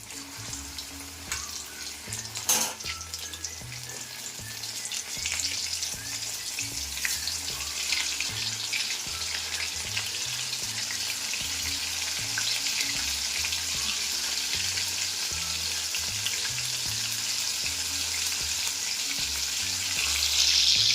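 Pieces of lote fish, Bombay duck, fry in hot oil with a steady, crackling sizzle that grows louder over time, broken by occasional clinks and scrapes of a utensil against the pan.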